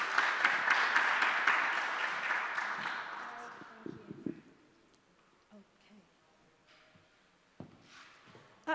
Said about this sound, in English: So let's do a final round of applause.